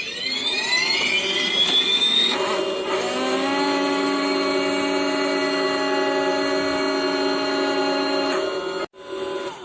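A Heng Long 1/16 M1A2 Abrams RC tank gives off a steady, high-pitched electric motor whine with layered tonal hums that shifts pitch early on, then cuts off abruptly near the end.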